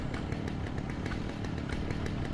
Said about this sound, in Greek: Σαν μηχανή ακούγεται